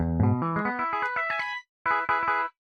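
Simulated electric guitar voice with piezo pickup and reverb, built as a software synth plugin, rings out a quick ascending run of bright plucked notes, then after a short pause two sustained strummed chords, clean and close with no talk.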